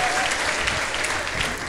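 A church congregation applauding, with dense steady clapping filling the short moment, close and loud, while voices are faintly mixed in.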